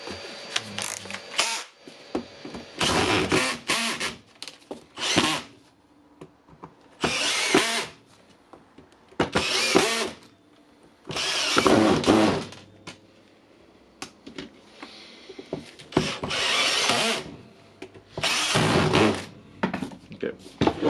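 A repaired cordless reciprocating saw runs in several short bursts at full speed, each a loud, close buzzing whir separated by quiet gaps, with a voice speaking between them.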